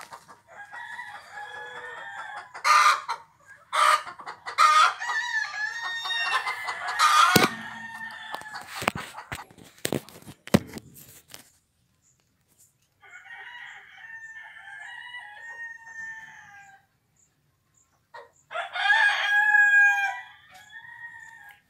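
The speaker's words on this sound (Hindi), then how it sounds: "ये देखिए कड़कनाथ मुर्गा, कड़कनाथ कड़कनाथ कड़कनाथ।" Kadaknath chickens at a district animal husbandry office in Bokaro cluck and crow in loud, close bursts. Several overlapping calls are followed by a quiet gap, then more clucking and crowing toward the end.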